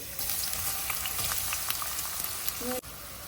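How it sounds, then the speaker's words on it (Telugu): Onion pieces hit hot oil in a pan for an Andhra-style shrimp curry, setting off a steady, fairly loud sizzle with light crackling pops, then a brief clink and a sudden drop near the end. "ఒక ప్యాన్లో కొంచెం నూనె వేసుకున్నాను. ఇప్పుడు ఉల్లిపాయ ముక్కలు వేస్తున్నాను రొయ్యల ఇగురుకి."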